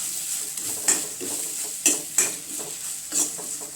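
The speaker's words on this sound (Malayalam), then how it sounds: "അപ്പം ഞാനിത് വറക്കട്ടെ കേട്ടോ. തേങ്ങ മുളകൊക്കെ നന്നായിട്ട് മൂത്തിട്ടുണ്ട്." Grated coconut and chillies fry and get stirred in a pan for a bitter gourd theeyal, with a steady sizzle broken by several sharp scrapes of a spoon against the pan, close and clear with no talking.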